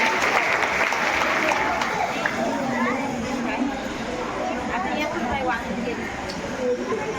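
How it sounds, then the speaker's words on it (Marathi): Applause from a crowd of women at a self-help group gathering during a haldi-kunku ceremony, steady dense clapping over several seconds with chatter and babble mixed in. "जोरदार टाळ्या होऊन जाऊ दे"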